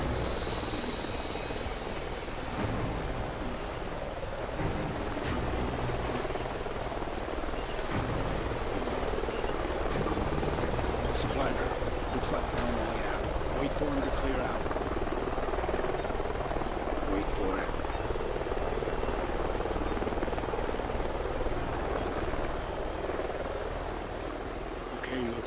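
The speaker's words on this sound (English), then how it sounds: "Sounds like a chopper's up ahead of us." A helicopter's rotor thrum drones steadily at a distance in a video game, a constant low chopping rumble with faint crackles and rustles over it.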